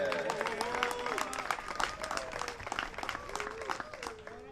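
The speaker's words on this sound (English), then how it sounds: "Give a welcome round of applause to Kona Star Panic" Spectators at the final round of the U.S. Women's Disc Golf Championship clap and cheer as a player is introduced on the tee, a lively outdoor burst of applause with whoops and voices mixed in.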